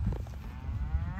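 Cattle low in a farm working pen on a cold day, a low droning moo running through most of the moment, fairly close, with steady low rumble and no talk over it.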